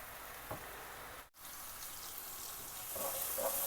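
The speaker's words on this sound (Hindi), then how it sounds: "दाल हमारी बॉईल हो चुकी है। अब हम इसको छान लेंगे।" Half-boiled mash lentils are poured through a strainer, making a steady near rush of draining water with a brief pause partway, then a slightly fuller gush, and no talk.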